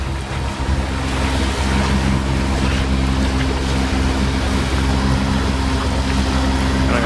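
A moving boat runs with the tide near Lindeman Island, with steady wind roar, slapping waves and engine rumble blended into a loud continuous wash, with no voices.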